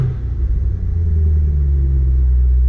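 An Equus Throwback car engine idles with a deep, loud, steady rumble that swells slightly as it revs, heard close up with no talk.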